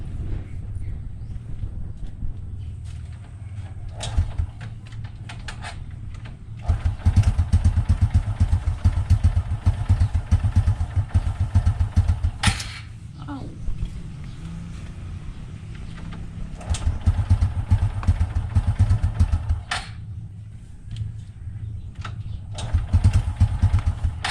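A carbureted Honda XRM 125 motorcycle is kicked and started on a cold morning, its engine catching and running in loud, uneven bursts with brief dips, along with clattering and mechanical knocks nearby.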